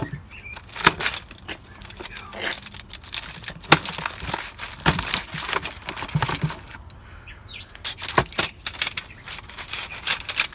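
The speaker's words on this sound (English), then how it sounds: "This is so much easier when you have two hands to cut into your ribs." A knife cutting into crispy smoked barbecue ribs, giving sharp crackling crunches and scraping bursts at close range, irregular over several seconds with brief quieter gaps.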